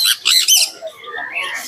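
Tame blue yellow-sided conure at a pet market, a few sharp, loud, close squawks in quick succession followed by softer chattering calls.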